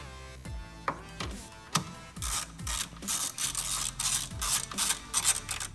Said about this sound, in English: I'm going to go ahead and tighten on this this 10 that goes in right here